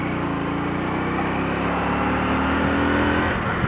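Car engine on a rough road in a lower gear after a downshift, a steady loud mid-range drone that rises slightly toward the end, with no talk over it.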